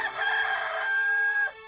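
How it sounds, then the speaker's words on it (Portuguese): A rooster crows once, a single loud, close cock-a-doodle-doo that rises and holds a long ringing note before cutting off, heard alone with no talk. "Imediatamente cantou o galo."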